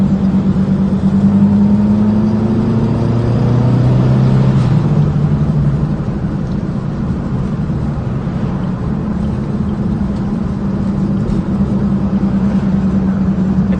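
1964 VW Beetle cruising at night, heard from inside: a loud, steady engine drone that rises in pitch with a gear change early on, then settles into a rough, even road rumble.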